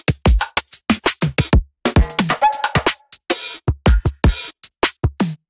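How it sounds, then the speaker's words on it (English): Drum samples play alone in an electronic remix track: random hi-hats, toms and other hits in a quick, choppy, syncopated pattern of sharp percussive strikes with short gaps, loud and close with no voice. "So if we just play the drums on their own, they sound like this."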